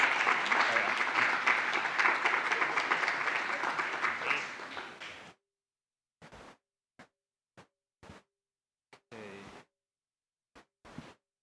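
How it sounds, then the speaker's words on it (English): A sustained round of applause from a lecture audience for the winner of a computer graphics rendering competition slowly fades and stops abruptly, followed by a few brief, scattered bursts of sound separated by silence. "we can give her a round of applause"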